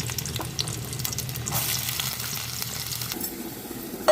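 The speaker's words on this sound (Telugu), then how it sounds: "ఉల్లిపాయలు వేసాను కదండి, పొయ్యి మీద వేగాలి ఎర్రగానే" Onions frying in hot oil in a pot on a stove for a brinjal and drumstick curry, a steady close sizzle and crackle that eases slightly near the end, with no talking.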